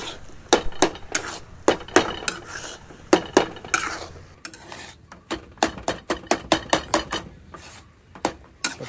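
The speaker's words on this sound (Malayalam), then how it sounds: "കംപ്ലീറ്റ് ഒന്ന് ഡ്രൈ ആയി വരുന്ന വരെ ഇളക്കി കൊടുക്കണം" A spoon scrapes and clatters against a pan as masala with coriander leaves and curry leaves is stirred until dry, with rapid, repeated metallic clinks and scrapes close by, alone without talk.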